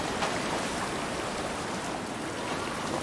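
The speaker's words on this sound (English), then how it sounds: "Sounds much more ocean." Steady ocean water washes and hisses continuously in the Sons of the Forest video game, an even, close wash of surf with no breaks or voices.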